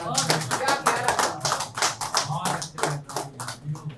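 A small audience at an Urdu poetry gathering claps in loose, uneven bursts, hands close and distinct, with voices murmuring underneath.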